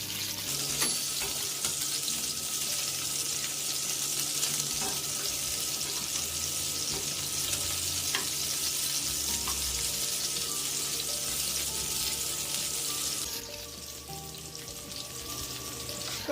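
Swedish-style meatballs sizzle in a pan while being turned, a steady close hiss of frying oil with occasional clinks of a utensil, the sizzle dropping quieter near the end.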